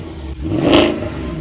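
A Mercedes CLS63 V8 engine gives one short rev that swells to a peak and falls away within about a second and a half, heard close and alone.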